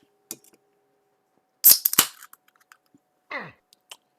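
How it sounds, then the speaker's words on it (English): A soda can is cracked open during a gaming session, giving a sharp snap and hiss followed by a second fizzing burst and a few small clicks, close and clear with no talking. "Just opened a soda."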